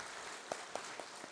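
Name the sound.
church congregation applause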